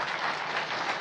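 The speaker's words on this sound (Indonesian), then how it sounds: "Ya, tepuk tangan dong untuk yang passive income." A seminar audience claps together in a brief burst of steady applause, dense and even, heard alone for about a second.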